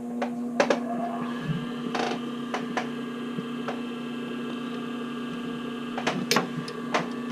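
A sewing machine stitches bra cups into the band with a steady mechanical whir and scattered sharp ticks and clacks, close and even, with no talking.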